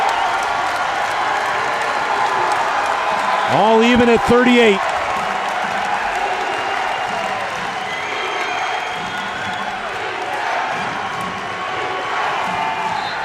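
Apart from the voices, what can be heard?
loud basketball crowd cheering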